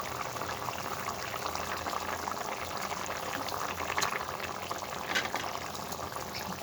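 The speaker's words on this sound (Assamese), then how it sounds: "এয়া মোৰ আঞ্জাখন উতলি গৈছে।" Fish curry bubbling in a covered pan, a steady close boil with a dense, even hiss and faint popping that runs throughout without pause or voices.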